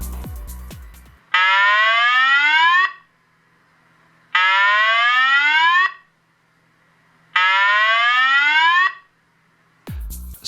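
A homebuilt circuit reproducing the Honeywell fire alarm slow whoop tone plays three loud rising sweeps, each about one and a half seconds, separated by short near-silent gaps.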